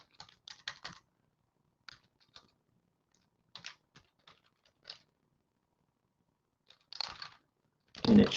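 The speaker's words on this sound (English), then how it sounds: "I'm going to put in my email address." Computer keyboard typing of an email address into a web form, heard as short, quiet bursts of clicky keystrokes separated by pauses, with a louder clatter at the end.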